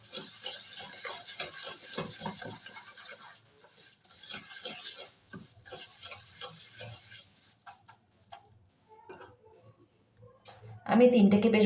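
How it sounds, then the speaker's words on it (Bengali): Sugar and other ingredients for an eggless chocolate cake batter being mixed by hand in a bowl, steady scraping and swishing strokes running in bursts, ending with a louder rough stir. "এবারে তিনটি উপকরণকে আমি বেশ ভালোভাবে একটু মিশিয়ে নেব।"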